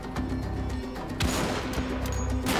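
Rapid gunfire from a first-person shooter, Wolfenstein: The Old Blood, with a steady run of close, sharp shots, a heavier burst just past the middle and game music underneath.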